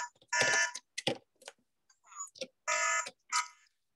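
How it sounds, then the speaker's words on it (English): A Hikvision AX Pro series wireless alarm panel sounds in several short, loud tonal bursts separated by brief gaps of near silence. "So we can hear that the alarm voice is stopped."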